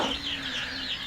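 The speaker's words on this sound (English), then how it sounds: "So we have locked up our chicken." Penned-up chickens cluck and murmur in a short, close burst, a warbling bird call rising and falling over a faint low hum, with no talk.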